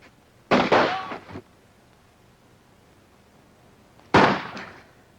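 Two loud, sharp rifle shots from an old comedy film, the first at about half a second and the second near four seconds, each with a short decaying tail, and quiet between them.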